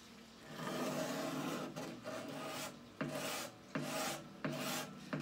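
Wood being shaved by hand off the neck of a Harmony Monterey archtop guitar to remove a flat spot, with repeated rasping strokes close up, one long pass followed by several shorter rhythmic ones.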